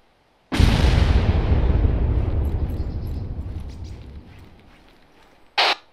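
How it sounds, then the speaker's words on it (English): A single heavy explosion in the military video game ARMA 3 bursts suddenly, then rolls and rumbles as it slowly fades over several seconds. A short, sharp crack follows near the end. "Did you have eyes on that explosion?"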